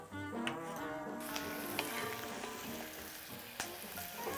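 Butter sizzles in a pan with onions being sautéed for a German-style potato soup, a continuous close frying hiss with occasional crackles and light pops throughout, no voices.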